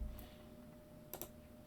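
A computer keyboard in a quiet room during a race live-timing setup, with two brief, faint clusters of key clicks separated by a pause over a low steady hum.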